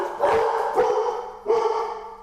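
Several dog barks ring out nearby in three loud bursts, with a clear pause before the final bark, and no voices are heard.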